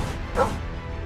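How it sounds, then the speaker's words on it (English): A single dog bark, short and moderately loud, in the video game Final Fantasy VII Ever Crisis, set against a low ambient bed. "A dog barks in the distance"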